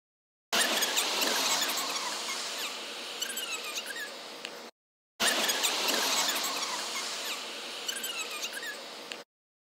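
Sped-up playback of a video's audio, turning it into squeaky, chattering high-pitched sound in two long passes separated by a short silence.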